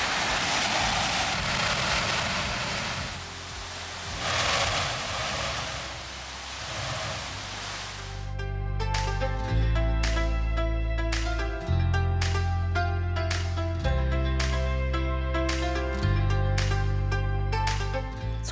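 Ocean surf at the Arahoho Blowhole in Tahiti, where waves force water and air through a hole in the rocks, giving loud rushing, whooshing bursts before steady music takes over in the second half.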